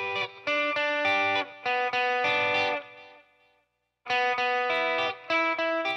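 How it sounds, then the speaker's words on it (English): An electric guitar plays choppy chords through a modulated delay, repeats shimmering and trailing, stopping briefly before the strumming returns. "This is a modulated delay, and there is the delay."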